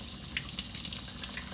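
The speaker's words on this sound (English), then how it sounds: "I'm trying to get the water right for you." A sink faucet runs as water is warmed for a dog's bath, a steady close splashing hiss with small bright spatters over a short stretch.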